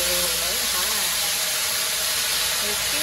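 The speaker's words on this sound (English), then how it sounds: "Add some water. Ooh, very hot. It's steaming" Water hits a hot sheet pan inside an oven and steams, making a steady, loud, broadband hiss that fills all three seconds, with a faint background tone running underneath.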